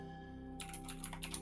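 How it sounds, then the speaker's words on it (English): Typing on a computer keyboard starts abruptly, a quick faint run of soft key clicks over a low steady hum, with no talk. "What are you typing right now?"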